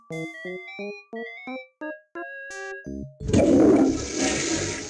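Cartoonish toilet flush from the 1993 adventure game Day of the Tentacle: a run of short tonal chime notes leads into a loud, rushing swirl of water that fades out, with no talking.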